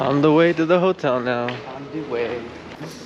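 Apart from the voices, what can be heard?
None of the usual background noises is heard.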